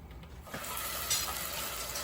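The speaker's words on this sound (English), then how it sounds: "add oil and then put the paste, the garlic, shallot, and candle nut, also coriander" A paste of garlic, shallot, candlenut and coriander sizzles steadily in hot oil, a close, continuous frying hiss with light stirring sounds and no talk, for an Indonesian sweet beef dish.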